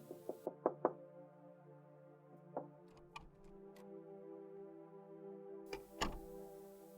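Knocking on a door, startling someone inside: a quick series of sharp raps, a few more scattered knocks, then another loud pair near the end, over a steady low hum.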